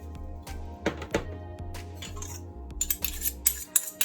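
A metal spoon clinks and scrapes against a pot while mixing brown stew chicken seasoning for Jamaican brown stew chicken, a run of irregular taps and knocks over a low steady hum.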